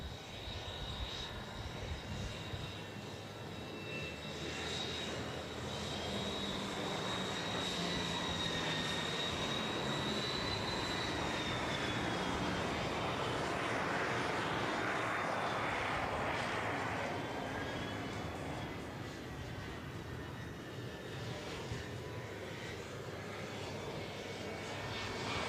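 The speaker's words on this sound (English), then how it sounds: "As he brings the aircraft around, I believe he's going to be doing a demonstration, Danny," A racing aircraft's engine drones steadily past at an air race in Roswell, New Mexico, a loud sustained roar with shifting pitch that swells and fades over the whole stretch, heard alone without talk.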